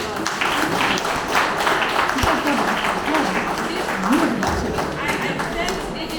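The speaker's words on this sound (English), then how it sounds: "Can we give them a big round of applause?" An audience at a book launch in Sikkim applauds a student group's musical performance, a sustained, moderately loud patter of many hands, with some nearby thumps and a voice briefly heard beneath it.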